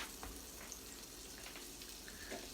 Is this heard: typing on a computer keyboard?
no